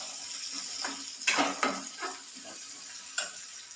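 Onions fry in a pan with a soft, steady sizzle, broken by a few sharp scrapes and clinks as a spoon stirs against the metal, close by and with no talking.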